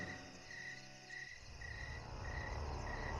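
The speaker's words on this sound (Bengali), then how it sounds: "বাইরে ঝিঝি পোকার ডাক" Crickets chirp outdoors at night in a village, a faint, steady pulsing trill that repeats in regular bursts against a quiet low rumble.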